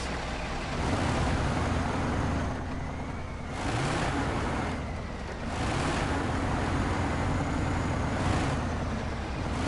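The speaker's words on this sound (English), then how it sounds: "Kind of sounds like a tractor or some sort, or a combine too." A heavy tractor- or combine-like vehicle engine in Snowrunner Season 15 rumbles steadily up close, its revs swelling and easing in slow waves with no speech.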